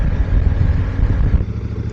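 A motorcycle cruising on a leisurely ride through the streets of Grasse, its engine rumbling loud and close with a steady, throbbing drone that eases a little near the end.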